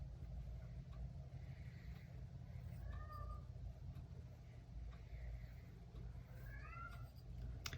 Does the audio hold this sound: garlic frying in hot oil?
no